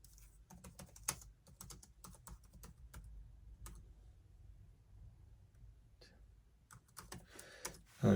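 Someone types quickly on a computer keyboard in a quiet room. The keystrokes come in uneven bursts with short pauses between them, soft and fairly close.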